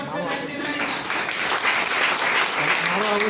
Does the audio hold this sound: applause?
yes